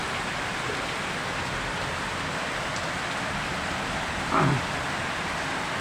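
Steady morning rain falling over Dhaka city, a continuous even hiss of rainfall close by with a brief louder patter partway through, and no voices.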